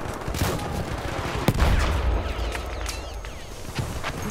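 Enemy machine gun fire in the Battlefield 1 game, Argonne Forest battle, comes as a dense rattle of gunshots with a sharp blast near the middle and a low rumble after it, over constant battlefield noise.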